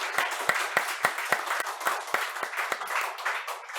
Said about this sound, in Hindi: प्लीज बेटा ताली बजाओ भाई के लिए,